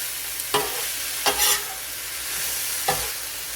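Ground beef, onions and garlic sizzle on a flat griddle in a steady close hiss, broken by three or four sharp scraping strokes of a spatula working the meat.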